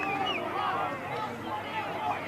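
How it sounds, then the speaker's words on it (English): Rugby league crowd on the far side of a Newcastle ground during a Kurri Kurri Bulldogs versus Central Newcastle match, a distant steady murmur of voices and cheering under a commentator's talk. "all of a sudden, the crowd on the far side have woken up"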